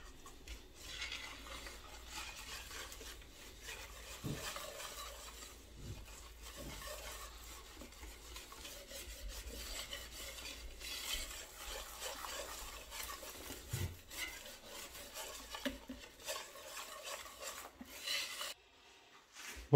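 Brioche dough is mixed by hand in a bowl, with soft, steady scraping and rubbing strokes and a few light knocks against the side, quiet and close, with no voices.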